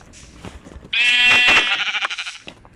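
A sheep in a Minecraft-style video game lets out a single loud, wavering bleat that trails off into a quavering tail, heard close and alone.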